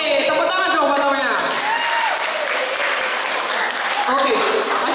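Applause for a student during a school disaster drill at SMP Negeri 10 Surabaya, a dense burst of clapping from a group, with voices talking over it as it goes on.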